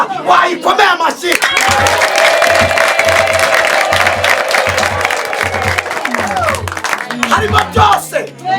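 A church congregation applauds together, a dense, loud wash of clapping from a large crowd that swells and holds for several seconds, with voices and shouts mixed in over a steady rhythmic beat.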